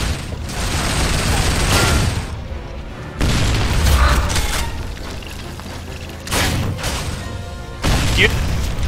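A grenade goes off amid a Gears of War firefight, with heavy booming blasts and bursts of gunfire repeating over several seconds, loud and close, while a player talks over the action.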